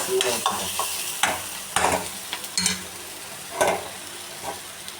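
Beans dal fry ingredients being stirred and mixed in a pan, with repeated scraping strokes and light sizzling, close and moderately loud, no talking.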